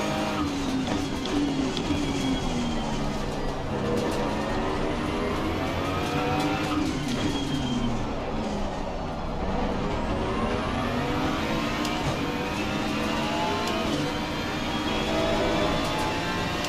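Aston Martin and BMW race cars in Assetto Corsa Competizione at Silverstone roar continuously, engine notes rising and falling through gear changes as the cars run close together, loud and unbroken for the whole stretch.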